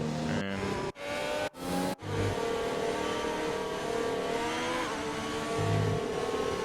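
Race car engines idle and rev together on the starting grid at Bahrain in an Xbox racing game while drivers warm their tyres, a steady droning whine with a few sharp cuts early on and no voices.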